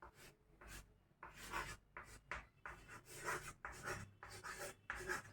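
Pen or chalk scratches out a heading in short, irregular strokes, close and quiet, with brief pauses between words.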